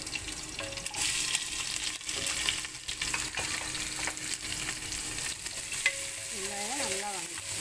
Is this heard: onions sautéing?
yes